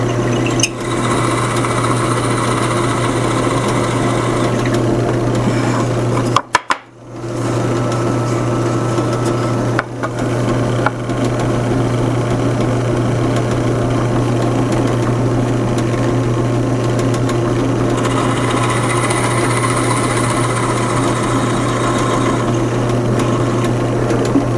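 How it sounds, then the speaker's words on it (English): A steady, loud mechanical whine of a drill press boring into wood, with a constant hum, briefly cutting out once midway before resuming. "and then I'm going to take it to the drill press."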